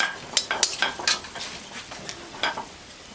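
Three dried chillies fry in hot oil in a pan alongside whole cumin, giving a soft sizzle broken by several sharp crackles and pops, with a few light clinks of a spoon against the pan.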